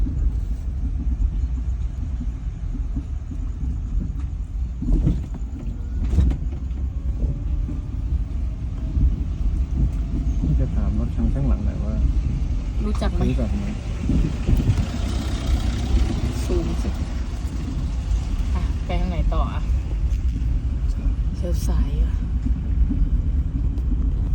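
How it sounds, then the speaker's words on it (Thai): Steady low rumble of road traffic with many cars and engines passing continuously nearby, heard from within a vehicle, with people talking over it. "รถเยอะจังวันนี้"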